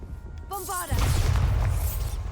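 A Bombarda spell explosion in Hogwarts Legacy erupts as a loud, sustained blast with crackling debris, following a short voice at the start.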